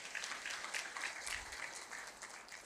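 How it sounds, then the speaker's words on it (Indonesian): A seminar audience claps steadily for a few seconds, a full, continuous patter of many hands heard from a moderate distance. "Berikan tepuk tangan buat Atomi."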